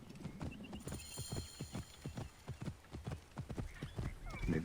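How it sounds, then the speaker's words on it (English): Quick rhythmic hoofbeats of a galloping horse in Assassin's Creed Origins, clip-clopping steadily and fairly faint, with a brief whinny. "I need my actual horse."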